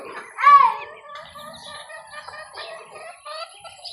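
Chickens and ducks on a small family farm, a loud nearby cluck or squawk followed by softer repeated clucking calls, with a voice faintly in the background.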